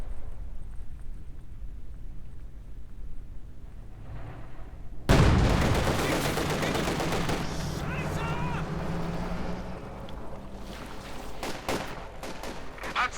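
Mounted machine gun fire and other battle noise from the Company of Heroes 2 strategy game: bursts of shots and rumbling blasts, sharply louder after a sudden onset, under continuous commentary.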